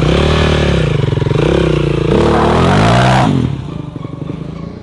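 A 450R race quad's engine revs up and down loudly while warming up, with strong harmonic swells over about three seconds before settling into a lower, rougher idle.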